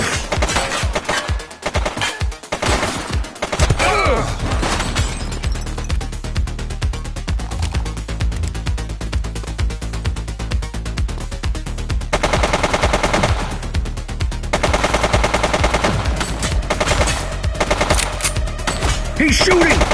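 A police officer's gunfire in the video game The Precinct: loud, nearly continuous rapid automatic bursts with dense overlapping shots that hardly let up for the whole stretch.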